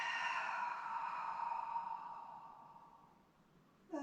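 A long, soft breath out during yoga fades gradually over several seconds in a quiet room.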